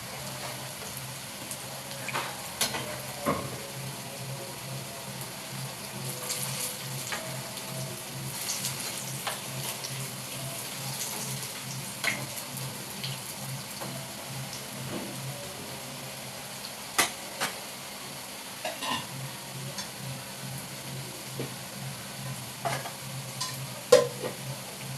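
Soybean pieces fry in oil in a pan, giving a soft continuous sizzle with occasional clinks and stirring noises, heard on their own without talk.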